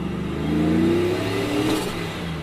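A supercharged Procharger-boosted Chevrolet Silverado RST pickup truck engine revs hard and close, a loud continuous roar climbing in pitch as it accelerates, with no talking.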